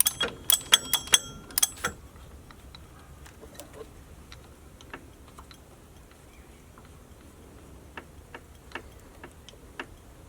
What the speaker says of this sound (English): To remove the upper bolt completely, we use a medium size ratchet with 12mm socket on it.